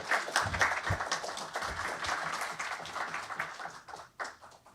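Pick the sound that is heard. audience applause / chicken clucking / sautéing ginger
audience applause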